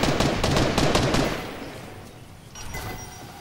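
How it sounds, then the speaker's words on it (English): Fortnite gunfire rattles out in rapid, loud bursts of overlapping shots, then fades into a quieter tail with a few distant pops. "they might be shooting each other now"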